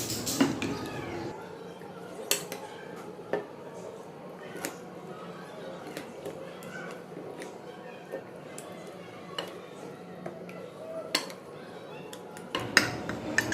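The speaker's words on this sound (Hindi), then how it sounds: "अब इसको मिक्स करेंगे, इसको अच्छे से मिक्स कर लेते हैं।" Chicken being mixed with biryani spices for a Karachi-style chicken biryani, with a utensil scraping and clinking against a metal pot in frequent irregular knocks, close and fairly quiet, with a low steady hum beneath.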